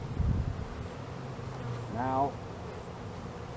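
Honey bees buzz around a hive in a steady low drone, with one bee's louder whine swelling close by for a moment; a voice speaks a single word over it.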